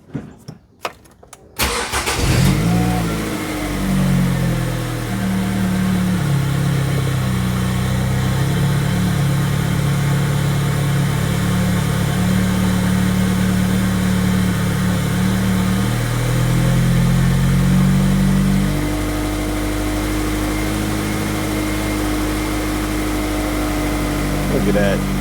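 A car engine cranks and catches, then idles and revs steadily for about fifteen seconds before settling back, heard close up while checking a P0171 lean-condition fault.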